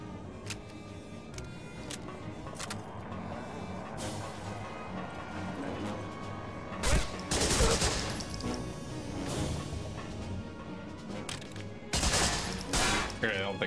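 Rapid bursts of gunfire and sharp shots from the World War II shooter game Medal of Honor: Frontline, crackling steadily over a low background din, with louder volleys near the middle and the end.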